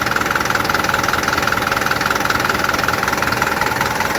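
An MTZ tractor engine idles close by with a steady, even mechanical drone and a faint regular knocking pulse, continuous throughout with no voices.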